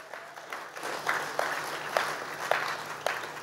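A congregation at a prayer meeting claps with a few distinct, rhythmic hand strikes over a soft bed of scattered applause, moderately quiet and roomy, building slightly after the first second.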